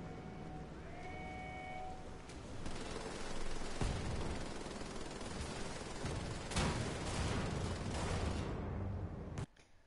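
Rapid bursts of automatic gunfire in the video game Wolfenstein: The Old Blood rattle continuously with sharp single shots mixed in, loud and close, before cutting off abruptly at the end.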